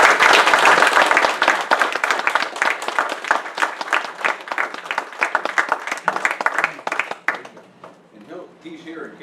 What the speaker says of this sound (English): we need to give Lieutenant Colonel Hackleman here some applause.